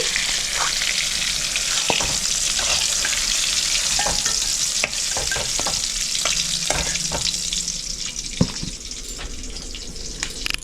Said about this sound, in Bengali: শুধু নুনটা দিয়ে ভেজে নিচ্ছি